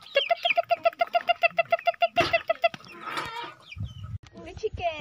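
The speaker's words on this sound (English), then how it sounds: "Ayan yung mga manok nila." Farm chickens cluck in a quick, evenly spaced series of sharp calls, close and clear, followed by scattered bird sounds and a person speaking.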